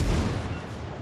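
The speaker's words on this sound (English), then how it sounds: "Oh, the guns are frickin' pop firing." Rapid, dense gunfire crackles and booms steadily from start to finish in a game featuring a Minotaur, loud and continuous with no gaps and no talking.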